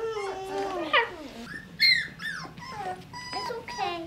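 Big, plump puppies whimper and yip in high, wavering cries close by. A few short squeals rise over faint background chatter.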